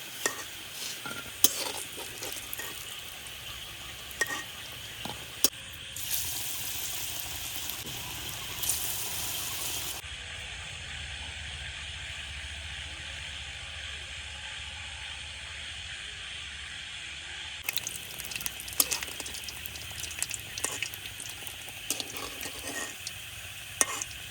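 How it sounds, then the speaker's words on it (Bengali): Jackfruit fritters fry in hot oil with a steady, soft sizzle and hiss that continues throughout, broken by occasional stirring and scraping and a few brief lulls in the bubbling. "বড়াগুলা ভাজা হয়ে গেছে, উড়াই নিতেছি। এখন এরকম একটু লাল লাল করে ভাজা নিছি।"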